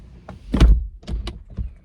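A Lucid Air rear passenger door with a soft-close mechanism pulls itself shut: a few muffled thunks and a short mechanical whir, close by, with no talking.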